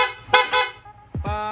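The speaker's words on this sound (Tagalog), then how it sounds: "Tapos busina" Loud horn of a Yamaha Sniper 155 motorcycle fitted with aftermarket lighting, sounded in two short, strong blasts close by with a brief pause between them.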